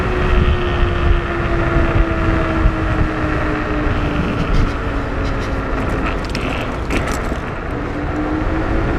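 Electric YUME X11+ scooter cruising at about 50 km/h, a steady close whine with rising and falling motor tones under constant loud wind rush on the microphone, no speech.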